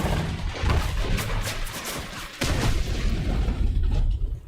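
Gunfire in a video game: dense, continuous loud shooting and booming blasts throughout, with a heavier burst of impacts about halfway through, all in a busy, noisy mix.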